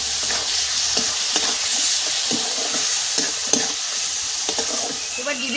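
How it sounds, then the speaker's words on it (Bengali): Chopped tomatoes with salt, turmeric and chili powder fry in a pan, sizzling steadily while a spoon scrapes and stirs in a repeated rhythm of close clinks. "এবার দিয়ে দিচ্ছি কুচি করে রাখা টমেটো।"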